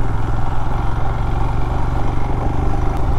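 A motorcycle on a remote village road in Karbi Anglong, Assam, runs close by with a loud, steady, throbbing engine chug, its pulsing idle rhythm continuous throughout.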